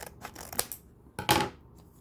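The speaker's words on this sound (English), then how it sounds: "Yeah, I'll cut it a little more." Scissors snip through plastic blister packaging around a SanDisk 1TB Ultra drive, giving a few close, crisp cuts with one louder crunching snip near the end, and no talk.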